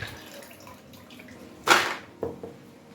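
Soaked tiger nuts and water are scooped into a bowl, with soft splashes and drips followed by a sharp watery pour and a few smaller sloshes, close and moderately loud.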